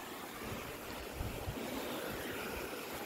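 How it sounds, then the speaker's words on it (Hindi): Waterfall water flowing on a hillside trail near Ajmer, a steady, soft broadband rush with no breaks and a few faint low knocks, heard alone without talk. "ये देखिए झरने का पानी आ रहा है, यहीं नहा लो बस।"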